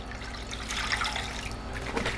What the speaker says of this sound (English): I will add my 2 cups of water.